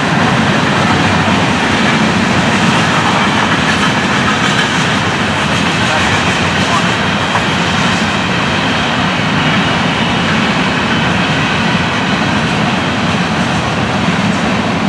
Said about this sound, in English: This is a short train,